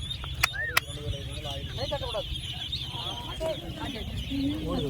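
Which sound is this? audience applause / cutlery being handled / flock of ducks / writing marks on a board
flock of ducks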